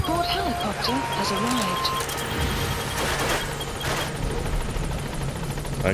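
Support helicopter arriving in the video game Metal Gear Solid V, a steady rotor thrum and whine across the scene with short electronic game tones and effects over it.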